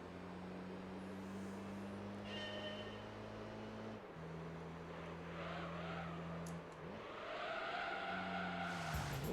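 A Mitsubishi Lancer Evolution drives in Gran Turismo 3, its engine holding a steady drone that shifts pitch with gear changes, with tire squeal and skidding toward the end.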